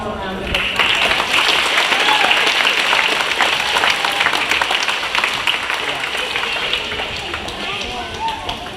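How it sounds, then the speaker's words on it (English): A school gathering of around 500 faculty and staff, marking an Island School birthday, breaks into loud, sustained applause for its founding members. The clapping is thick and continuous, with a voice audible briefly near the start. "let's give them all one more round of applause"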